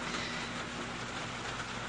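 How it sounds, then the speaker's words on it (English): Steady outdoor rainfall by a garden, a dense, even hiss of falling drops holding at one level throughout without any voices. "the rain's coming back again"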